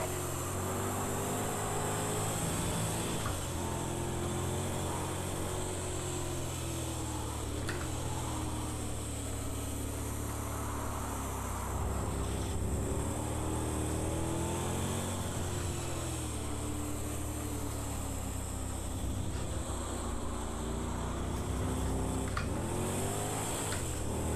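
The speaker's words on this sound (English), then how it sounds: "It's weird, this car almost has like a turbo blow-up valve sound to it, which it doesn't have in real life" A car engine in the Project Cars 2 racing game drones steadily throughout, its pitch rising and falling as it revs and shifts, with faint hissing that could be a turbo blow-off valve.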